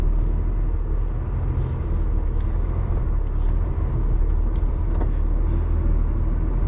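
A truck engine pulls away in gear with a loud, deep, steady rumble close by, broken by a few faint clicks and knocks, and no talking.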